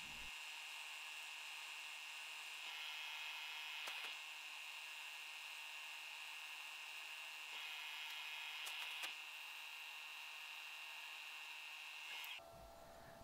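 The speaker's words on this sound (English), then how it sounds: "we need to drill number 19 size drill" A steady high-pitched whine of a small power drill boring a number 19 hole for a taper pin, running continuously with a few brief clicks and shifts in pitch, stopping abruptly near the end.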